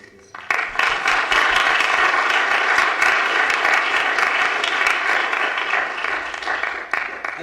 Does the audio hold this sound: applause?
yes